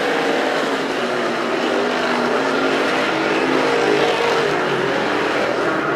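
Street stock race cars roar around Perris Auto Speedway in a main event, a loud, continuous blend of revving engines close by, sustained with slight surges as the pack races past.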